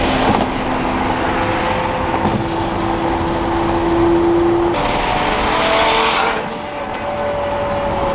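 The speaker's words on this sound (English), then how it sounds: "We're just gonna cruise with the Senna for a little bit." A McLaren Senna hypercar cruising on the road, its engine a steady, sustained drone with a held tone that shifts pitch midway, heard from inside or near the car with no talk.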